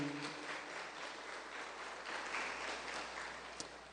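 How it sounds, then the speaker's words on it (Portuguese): Soft, distant applause from a church congregation, an even patter of many hands at low level that continues throughout, with one sharper clap standing out near the end. "dê uma salva de palmas para o Senhor Jesus"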